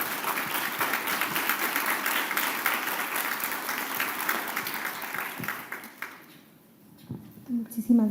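Loud audience applause at an academic conference on constitutional jurisprudence greets a doctor being introduced, steady dense clapping for about six seconds that thins out, then a voice begins speaking.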